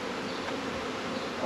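Honey bees buzz around a swarm house in a dense, continuous drone, close by and steady with no breaks or voices.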